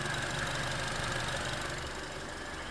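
A Honda car engine idles steadily with a dense, even rumble and broadband mechanical noise, close and constant throughout, with no voices.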